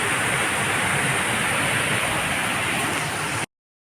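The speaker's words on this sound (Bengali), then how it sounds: "জলটা যাচ্ছে, একদম নিচে গিয়ে নামছে" Water rushes and falls steadily at Panchalingeswar temple, a dense continuous hiss of flowing and splashing water heard close by, cutting off abruptly near the end.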